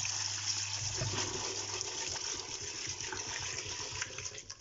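Fresh water poured into a pot of soaked beans, a continuous gushing and splashing that runs steadily throughout, fairly close, with a faint hum underneath at the start.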